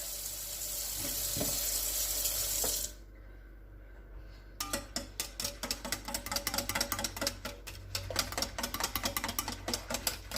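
Cold water runs from a kitchen tap into a measuring cup for a tres leches jello cheesecake, a steady loud rush for about three seconds, then a pause and a series of clinks and taps of glassware and utensils.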